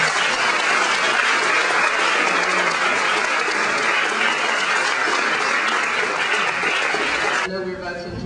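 A large brunch audience breaks into loud sustained applause, a thick wash of clapping hands close and continuous for about eight seconds before it begins to thin out at the very end.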